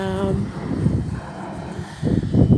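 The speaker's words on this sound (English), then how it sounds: "I hope you can hear me above the wind and the planes." Airplanes rumble overhead in a garden on a cloudy day, their low drone mixed with gusty wind buffeting the microphone, loud and steady throughout.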